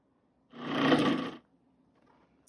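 A single short pulse of a food processor whirring and chopping pumpkin pudding cake batter, about a second long, then near silence.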